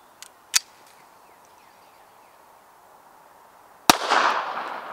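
Walther PPK/S pistol firing Critical Defense rounds outdoors: two sharp reports early and a third near the end, each a brief loud crack, the last trailing into a ringing echo.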